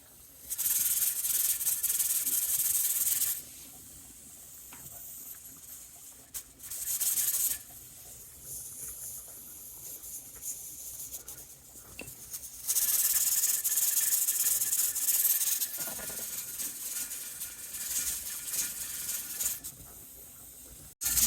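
Bursts of hissing and jiggling rattle from the weight of an All American pressure canner holding 10 pounds of pressure come and go in several long stretches, with quieter gaps between them.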